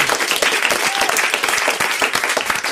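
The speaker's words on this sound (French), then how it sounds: "Les mêmes applaudissements pour Jacques Ramard." Studio audience applause for a guest on a French talk-radio show, a dense, steady wash of clapping that holds loud and even from start to finish.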